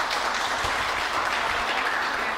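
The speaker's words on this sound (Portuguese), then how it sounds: "palmas para a Simone e para o João que ganharam o chocolate" A classroom audience applauds a pair of chocolate winners, a steady wash of many hands clapping at moderate level with no talk over it.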